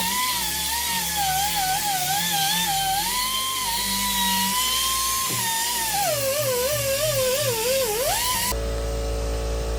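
A power polisher whines steadily and close up while buffing a modified truck shell canopy, its pitch wavering as pressure shifts, then a different harsher tone takes over near the end.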